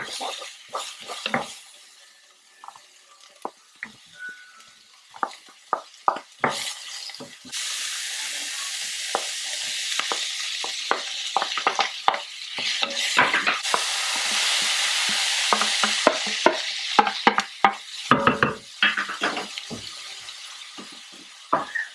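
Bitter gourd (ampalaya) stirred and fried in a pan, with a hiss of frying that swells in the middle and repeated scraping, knocking strokes of a utensil against the pan, plus occasional speech.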